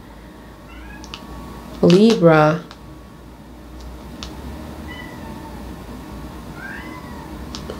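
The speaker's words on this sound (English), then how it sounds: "My cat is crying for her brother." A cat meows in one loud, drawn-out wavering cry at a home, standing out over a quiet room hum, with a person speaking softly at the start.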